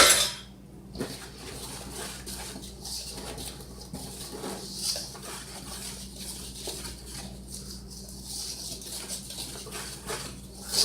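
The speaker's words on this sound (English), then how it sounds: "I'm just going to whisk those together" Flour, salt and granulated sugar being whisked together in a bowl for sweet bread dough, a quick repeated scraping and light clinking of the whisk against the bowl, close and fairly quiet with no talk.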